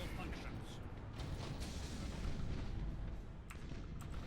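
Heavy broadside cannon fire from warships in Battlefleet Gothic Armada rolls out as a dense, continuous rumble of booms and blasts, loud and sustained throughout with no clear gaps between shots.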